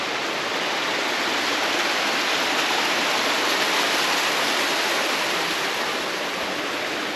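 Waterfalls in Arizona pour in a steady, dense broadband roar, heard from near the base of the falls, unbroken and without voices for the whole stretch.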